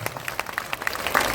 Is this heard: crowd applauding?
yes